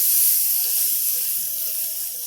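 Onion-garlic paste roasting in a pan for Afghani borani baingan gives a steady, close, bright sizzling hiss that fades slightly toward the end, with no talking.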